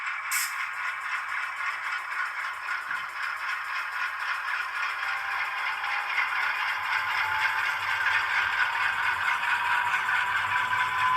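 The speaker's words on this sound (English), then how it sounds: "Very nice, smooth running engine." A ScaleTrains Rivet Counter C39-8 model diesel locomotive crawling at the lowest speed step with sound on, giving a steady, continuous engine hum with faint mechanical rattle, alone and unchanging throughout.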